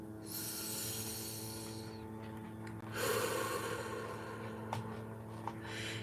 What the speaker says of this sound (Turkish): Derin nefes alın ve verin.